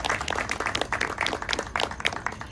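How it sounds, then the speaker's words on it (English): An evening talk audience at Holloway House applauds the event photographer, a fairly faint patter of clapping from a modest crowd that keeps going steadily throughout. "Let's give him a round of applause as well."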